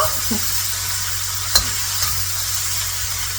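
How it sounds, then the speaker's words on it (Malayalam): Sautéed vegetables being stirred into coated chicken in a pan for kalamkari chicken, a steady broad sizzle with soft scraping and one sharp utensil clink, no voices. "ഇനി ഇതിലേക്ക് ഞാൻ നമ്മുടെ നേരത്തെ വഴറ്റി വെച്ചിരിക്കുന്ന വെജിറ്റബിൾസ് ആഡ് ചെയ്തിട്ടുണ്ട്. മിക്സ് ചെയ്ത് കൊടുക്കുക."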